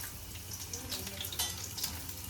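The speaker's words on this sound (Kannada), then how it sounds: "ಸೊ ಎಣ್ಣೆ ಹೀಟ್ ಆಗ್ತಾ ಇದ್ದಾಗೆ ನಾವು ಗಾರ್ಲಿಕ್ಕನ್ನು, ಚಿಕ್ಕದಾಗಿ ಕಟ್ ಮಾಡ್ಕೊಂಡಿರುವಂತಹ ಗಾರ್ಲಿಕ್ಕನ್ನು ಹಾಕಬೇಕು." Finely chopped garlic sizzles in hot oil in a home kitchen pan, a faint, steady crackling hiss with a few light clinks and no talking.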